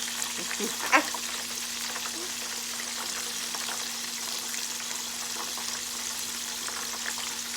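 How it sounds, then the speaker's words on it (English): Mushrooms browning in a frying pan give off a soft, continuous sizzle, with one brief stir or clink near the start. The sound is quiet, close and steady, and a faint hum runs underneath. "you know, just brown on that one side. So I'll be stirring them around"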